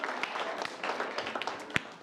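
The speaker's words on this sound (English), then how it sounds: "Let's give them a round of applause" Audience applause at an improv comedy show for the performers: a moderately dense scatter of claps, fairly soft and roomy, with a few sharper individual claps standing out near the end.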